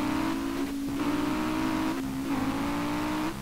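A car engine in the Street Legal Racing Redline racing game drones and revs loudly and continuously, its pitch climbing and dropping with gear changes and straining as it struggles in fifth gear.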